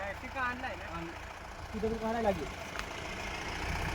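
Low, steady rumble of a tractor engine idling nearby on a rough farm track, with brief talk over it early on.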